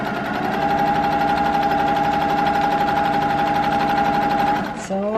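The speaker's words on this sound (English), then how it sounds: "Sewing like butter." A sewing machine runs steadily and continuously, stitching fabric for a glass-look bra costume piece, with its motor hum and rapid needle rhythm close and loud, before stopping near the end.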